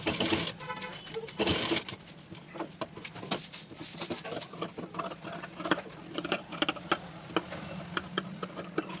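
A sewing machine stitches the boat neck of a little girl's designer dress close to the buckram, a steady run of rapid ticking needle strokes filling the whole stretch at close range.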